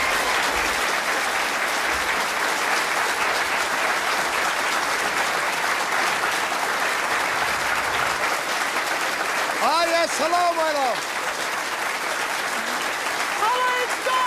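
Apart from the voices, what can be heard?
studio audience applause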